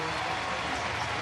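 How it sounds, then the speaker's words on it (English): Steady wash of applause from a ballpark crowd for a Reds left-hander working into the eighth inning against the Cardinals, broad and continuous, with voices mixed in. "He should get a pretty good round of applause here, though."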